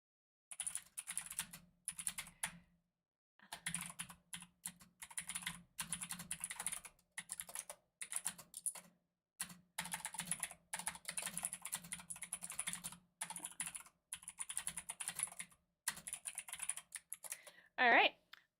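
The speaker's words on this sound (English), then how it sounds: "I'm gonna type real quick. This is gonna be loud." Fast typing on a loud mechanical keyboard rattles in dense bursts with short pauses, close and crisp, over a faint low hum.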